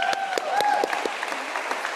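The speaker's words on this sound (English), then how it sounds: "Let's give another round of applause for Joe," Audience clapping fills the clip steadily, a dense patter of many hands with a few sharper individual claps standing out, and a voice briefly audible beneath.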